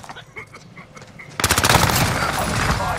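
Rapid automatic gunfire erupts in a Call of Duty Warzone match on PS5, a loud sustained burst of shots after a quieter opening with brief bird-like chirps.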